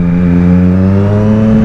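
Street motorcycle fitted with a K&N air filter holds a steady, loud engine drone with stacked harmonics during a wheelie, pitch nearly level and shifting slightly at the end, close and continuous with no talk.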